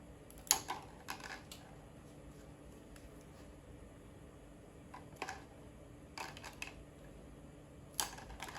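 Plastic drinking straws are snipped with scissors for a marble maze, giving sparse, faint, crisp clicks scattered irregularly across a quiet room, with no talking.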